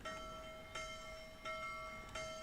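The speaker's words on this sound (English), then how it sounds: "Oh, the bells ring." Bells ringing in the Assassin's Creed video game, a distant faint tolling with about four evenly spaced strikes whose pure tones linger between hits.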